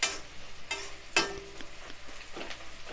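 Onions sautéing on high flame in a kadai for mutton biryani, with soft sizzling and several sharp scrapes and clanks of a ladle stirring against the pan, fairly quiet and close.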